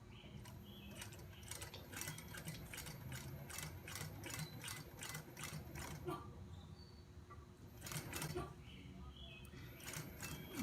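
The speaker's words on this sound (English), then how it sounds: "I'm going to stitch pretty close to the edge because we're top stitching this as well." A sewing machine top stitches a zippered pouch, a faint rapid mechanical whirring with quick stitching ticks in short runs and pauses, close by over quiet room noise.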